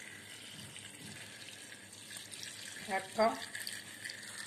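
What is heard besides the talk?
water being poured into a cooking pot for soup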